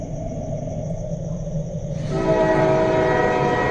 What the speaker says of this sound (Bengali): হঠাৎ ট্রেনের হুইসেল কানে আসতেই আমি তাড়াতাড়ি করে বেঞ্চ থেকে উঠে পড়লাম।